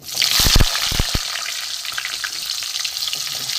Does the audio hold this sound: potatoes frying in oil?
yes